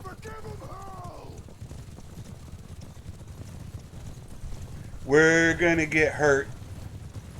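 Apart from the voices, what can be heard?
horse galloping in video game Mount and Blade 2 Bannerlord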